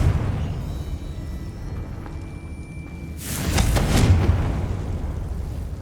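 A Confringo fire spell goes off in Hogwarts Legacy as a sudden roaring explosion that swells over a steady game background and fades over about a second.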